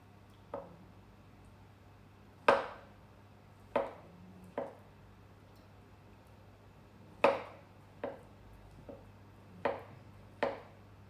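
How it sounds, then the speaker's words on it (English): A knife slices food during cooking, about ten crisp, close cuts landing at uneven intervals against a quiet background with a low steady hum. "just slice here"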